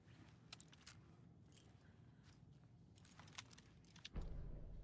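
Keys jangle in a short handover within the video game Alan Wake II, several light metallic clinks scattered over a low ambient hum, followed by a louder dull thump near the end.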